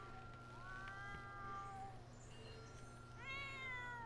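A cat in The Sims 4 meows in a few drawn-out, wavering calls, one early and one near the end, quiet over a low steady game hum with no speech.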